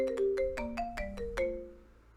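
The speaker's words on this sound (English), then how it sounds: "You're woken up by a god-awful ringtone on my phone" A harsh electronic phone ringtone chimes in a quick melodic run of bright, clipped tones in a visual novel game, fairly close and alone, fading out at the end.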